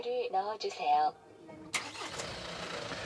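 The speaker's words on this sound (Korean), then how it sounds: "시동을 한번 걸어볼게요" After a person speaks, a Hyundai Porter 2 double-cab truck engine cranks and catches, settling into a steady idle close by.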